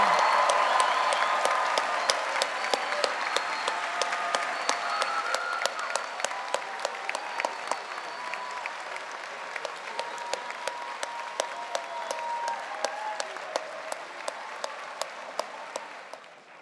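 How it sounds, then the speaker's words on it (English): An audience at a baccalaureate convocation applauds graduating students with steady, sustained clapping that slowly fades over about sixteen seconds. "let's give a round of applause to all the students graduating cum laude"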